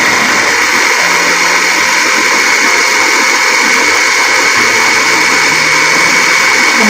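Emily electric food chopper running at speed 1, a loud continuous motor whir and buzzing roar, steady throughout with no talk.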